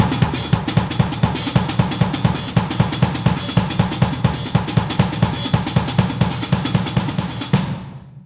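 Drum kit playing a dense, driving pattern in 9/16 time, with rapid cymbal and hi-hat strokes over kick and snare accents in a steady, loud, busy groove that stops abruptly near the end.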